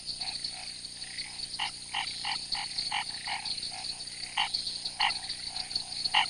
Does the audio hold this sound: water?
no